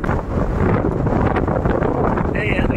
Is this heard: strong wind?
yes